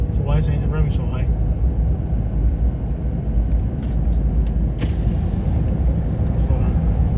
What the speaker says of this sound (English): So why is the engine revving so high?